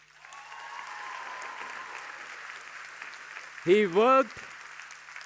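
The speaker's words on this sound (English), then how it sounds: "let's give a big round of applause to him" Steady applause from a school audience for a student, running as a continuous even wash through most of the stretch, with a voice speaking over it near the end.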